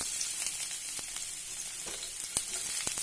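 Onion drops into hot oil in a kadai and fries, giving a continuous close sizzle scattered with sharp crackling pops.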